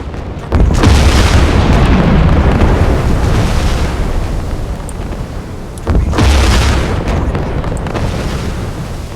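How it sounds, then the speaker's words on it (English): Torpedo hits on a convoy in the Silent Hunter 4 submarine game: two loud, deep booming explosions, each rumbling on for several seconds, with the second blast following the first after a short gap. "Torpedo impact! Torpedo impact! Torpedo impact!"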